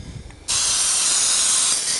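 Spray adhesive can firing onto leaves for a leaf composite plate: a quiet start, then a sudden loud, continuous hiss of spray that holds steady at close range.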